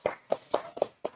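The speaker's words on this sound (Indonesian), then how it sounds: "Tepuk tangan dulu." An audience at a food presentation on ginger ice cream claps hands in five distinct, evenly spaced claps, close and moderately loud, with nothing else around them.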